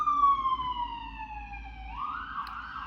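Ambulance siren with a wailing tone that slowly falls in pitch as the vehicle passes near a hospital, loud and alone with no talk, then fading into broadband traffic rumble.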